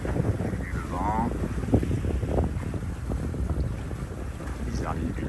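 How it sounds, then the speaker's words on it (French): Steady wind roars and buffets over open Mediterranean water aboard a sailboat leaving Porquerolles, with a constant low rumble, while faint voices murmur underneath. "Le vent."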